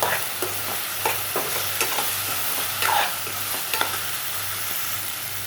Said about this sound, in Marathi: कांदा आणि टोमॅटो चांगला परतून घेऊया, त्याला लालसर रंग येईपर्यंत